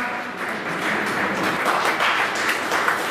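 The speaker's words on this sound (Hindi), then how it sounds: "आप लोग तालियों से स्वागत करें।" A crowd at a BJP regional office gathering applauds to welcome a senior party leader, with steady, dense clapping that fills the whole stretch at an even, moderately loud level.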